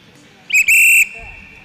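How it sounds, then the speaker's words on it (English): A starter blows a whistle at a short track skating race, giving two loud, shrill blasts close by: a brief chirp followed at once by a longer held tone, then a quiet room. "Our starter is blowing the whistle, signifying that she wants to start this race."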